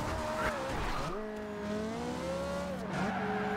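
Porsche Macan Turbo 2015 engine in the Forza Horizon 2 racing game, a steady loud engine drone that dips, then climbs again through revs, with a brief tire-squeal edge, continuous throughout.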